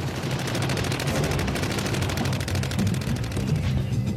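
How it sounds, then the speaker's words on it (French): Sustained bursts of rapid German machine gun fire rattle continuously, loud and close, with dense rhythmic cracks and no speech, in the Battle of the Bulge. "Et puis le bruit des mitrailleuses allemandes."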